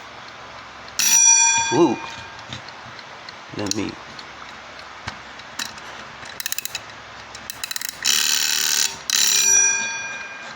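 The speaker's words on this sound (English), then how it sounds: "So let's listen to the alarm, see how that sounds." Clicking and winding noises, then a wind-up bird box mechanical alarm clock's bell rings loudly in two sustained bursts. A voice briefly exclaims.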